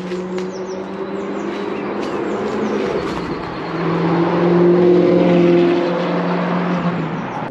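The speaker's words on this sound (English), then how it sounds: "You can adjust just the slightest flex of your heel and you can just control that those revs, and they just go flying up in the R8 so quickly" Audi R8 V8 engine revving on a bumpy country B road, a loud sustained drone that swells and climbs in pitch midway through, with no talk over it.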